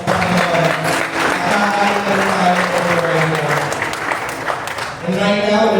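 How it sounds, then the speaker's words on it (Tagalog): Church congregation clapping loudly during a worship service, a dense sustained wash of applause heard under a speaking voice that carries through much of it. "pumalakpak ka ng malakas ng malakas."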